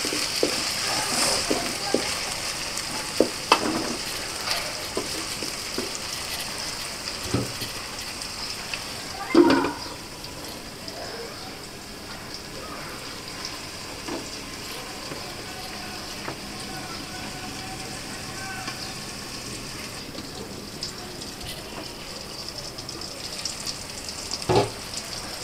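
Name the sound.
shrimp frying in a pan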